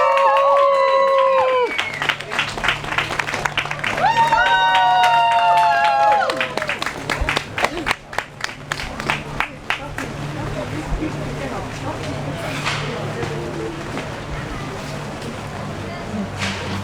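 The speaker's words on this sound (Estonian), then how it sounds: "Aplaus!" An outdoor public gathering on 15 May 2021 begins with raised, sustained voices calling out. A burst of scattered hand-clapping follows, then fades into crowd murmur and background noise.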